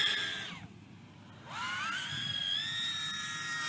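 A FuriBee X140 micro brushless FPV racing drone at full throttle, its high, piercing motor whine dipping in pitch, falling quiet briefly, then sweeping back up to a loud, sustained scream.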